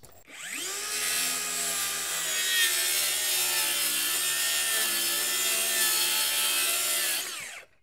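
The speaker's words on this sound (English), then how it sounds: "In order to rip a half an inch off of it, throw a couple of temp screws in." Power saw ripping half an inch off a wooden board during shed framing, one continuous loud cut lasting several seconds with a steady whine that spins up at the start and winds down at the end, no talk.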